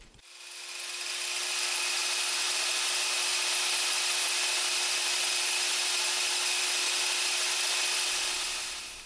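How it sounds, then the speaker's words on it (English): A table saw cuts a rabbet in a wooden piece for a small gift box, its steady high whine running loud and continuous for about eight seconds before winding down, with no voices. "to finish my rabbet, I just keep running it through the table saw and bouncing it back and forth"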